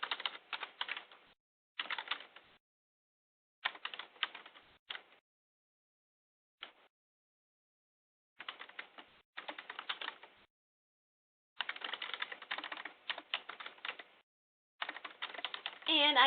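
Typing on a computer keyboard to enter a username and password, in short bursts of rapid key clicks split by pauses of silence, close and fairly quiet.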